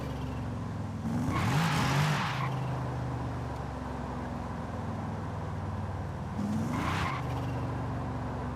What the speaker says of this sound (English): Can't beat the sound of a V8.